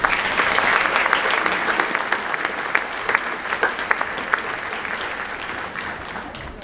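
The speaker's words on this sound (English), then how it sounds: "Let's give a round of applause to our 8th grade choir, please." Sustained applause from a concert audience greets an 8th grade school choir, a thick, even patter of many hands with a few sharper claps standing out, continuing without speech.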